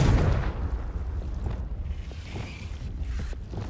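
A Confringo fire spell bursting in Hogwarts Legacy, a loud booming blast at the start that decays into a rumbling, crackling tail.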